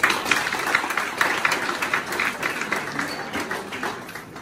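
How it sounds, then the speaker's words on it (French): Applause from the audience at a graduation ceremony for an outgoing class, a steady wash of many hands clapping that swells slightly in places and carries on throughout the clip. "Je vous demande de les applaudir s'il vous plaît."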